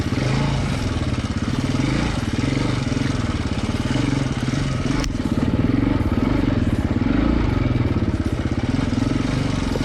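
KTM 250 EXC-F four-stroke enduro motorcycle ridden over rocks on a Colorado hard enduro trail, its engine droning steadily and loudly throughout with slight rises and dips in revs.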